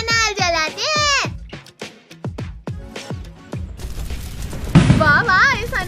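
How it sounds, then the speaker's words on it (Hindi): An anar fountain firework is lit, and a bright, continuous hissing spray starts partway through. It plays under and after high-pitched, animated-sounding voices talking. "चलो भैया ये अनार जलाते हैं।"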